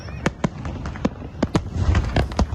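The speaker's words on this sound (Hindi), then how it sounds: "नए साल के स्वागत में जमकर आतिशबाजी हुई है।" New Year fireworks over Abu Dhabi: a series of sharp crackling bangs and pops at uneven intervals, some near and some farther off, over a rumbling crowd-like background.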